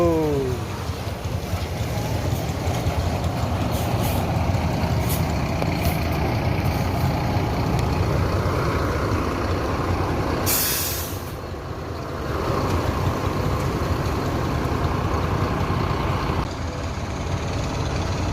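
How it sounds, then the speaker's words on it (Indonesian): An NPM Firkansa 33 executive bus pulls into Balai Solo bus terminal, its heavy engine rumbling steadily and loudly throughout, with a sharp hiss of air brakes releasing midway and no talk. "NPM Firkansa 33 Eksekutif Bus memasuki Terminal Balai Solo."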